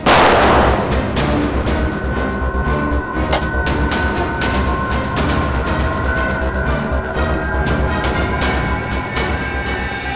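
Rapid bursts of gunfire ring out loud and close, a dense barrage of sharp cracks with no voices over them, amid a Hindi crime drama scene.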